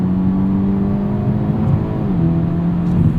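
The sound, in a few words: Hyundai Elantra N engine accelerating in N Grin Shift mode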